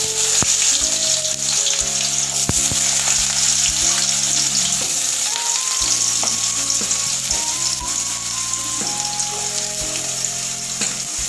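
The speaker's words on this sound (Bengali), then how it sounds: "এবার ফোড়নের গন্ধ বেরোলে এর মধ্যে আমি কুচিয়ে রাখা আলুগুলো দিয়ে দেবো।" Chopped potatoes fry in hot oil with a tempering of dried red chilli and white cumin, giving a loud, steady sizzle with stirring for the whole stretch, while music plays underneath.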